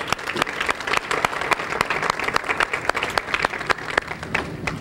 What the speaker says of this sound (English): give all of our speakers one more round of applause